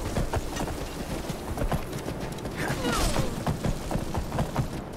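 Horse hooves gallop steadily in Skyrim, a continuous rapid clip-clop over rough ground with a dense thudding rumble throughout.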